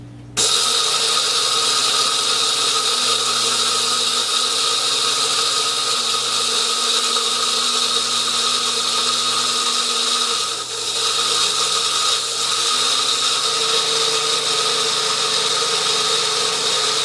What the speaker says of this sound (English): in the blender.